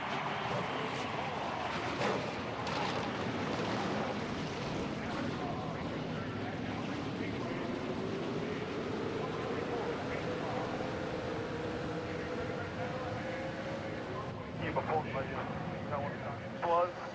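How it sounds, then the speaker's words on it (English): Stock car engines firing up before a 200-mile, 100-lap race in Fontana, California, a loud continuous roar with rising, sweeping engine tones over steady crowd and track noise. "Gentlemen, start your engine!"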